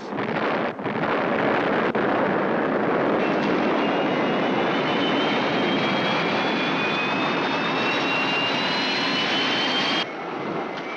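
Spacecraft engines roar at full power for takeoff, a loud, continuous jet-like rush with a rising whine layered on top, holding steady before easing slightly at the end.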